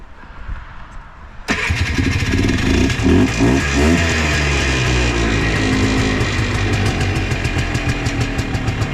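After a quiet low rumble, a 2000 Trailblazer engine bursts into life, revs briefly, then settles into a loud, close, uneven idle that sounds ready to stall, with no talk.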